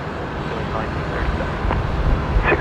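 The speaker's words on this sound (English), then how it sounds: "There it is, the A350 900 on short final now." A Singapore Airlines Airbus A350-900 on short final approach into Brisbane Airport, heard as a steady, distant broadband jet roar with wind noise across the whole stretch.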